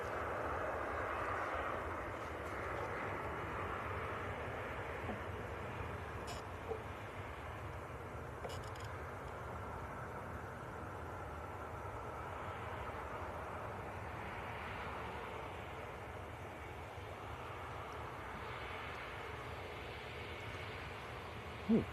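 A faint, distant aircraft engine drones steadily at Manchester Airport. It forms a low continuous rumble with no talk over it and a small click near the end.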